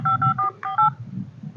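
A phone number is dialed: about five quick, clear keypad tones beep in a rapid sequence over a low background hum, then fade into quiet murmuring noise.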